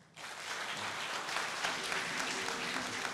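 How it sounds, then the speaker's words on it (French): An audience at an Ivorian professional football league awards ceremony breaks into sustained applause that starts abruptly and holds at an even, moderately distant level throughout. "applaudissements nourris pour Kolo Touré"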